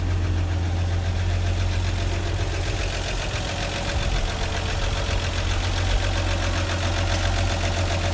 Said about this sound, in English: we'll watch the engine run for a second here.